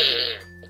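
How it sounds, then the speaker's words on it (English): A Minions Rise of Gru toy fart and fire gun lets out a short, loud, buzzy fart noise up close, a single raspy blast that fades out quickly. "It's a fart machine!"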